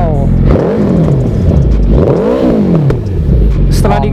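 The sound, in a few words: Suzuki Hayabusa 1340cc inline-four with Brox exhaust revving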